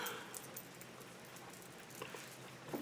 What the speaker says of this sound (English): Here's the rain outside.